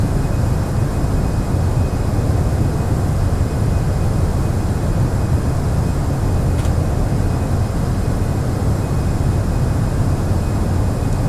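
Airbus airliner engines in a flight simulator game, a steady loud broadband roar with deep low rumble that holds constant throughout, no talking over it.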